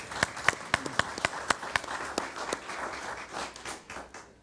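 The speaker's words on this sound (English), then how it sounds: "Give her a round of applause" A small audience at a school board meeting claps, starting with a few sharp, evenly spaced claps and then breaking into looser, scattered applause that fades out.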